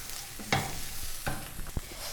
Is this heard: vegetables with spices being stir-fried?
yes